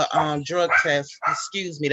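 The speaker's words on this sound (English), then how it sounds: "that's my dog" A dog barking at home, apparently at someone at the door, heard under a person who keeps talking over it.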